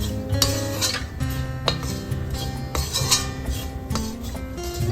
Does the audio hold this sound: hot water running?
no